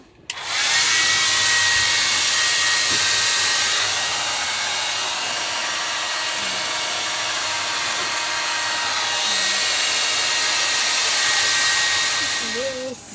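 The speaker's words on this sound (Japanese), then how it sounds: "何でもドライヤーしてる。" A hair dryer runs loud and steady for about twelve seconds, switching on at the start and off near the end, heard up close in a camper van during a family car-camping trip.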